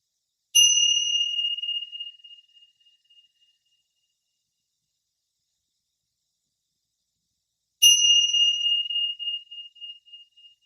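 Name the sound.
bell ringing during yoga breathing exercise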